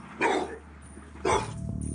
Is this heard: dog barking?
yes